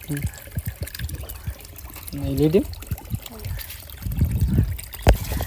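Water pours into a container with a soft, close trickle and splash that swells and ebbs, mostly under casual household conversation.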